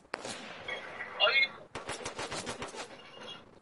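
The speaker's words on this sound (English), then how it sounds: "I think I'm using a long range shotgun." Long range shotgun blasts in a video game, heavy reports over a busy game soundscape, with a burst of rapid shots in the latter half, fairly quiet in the mix.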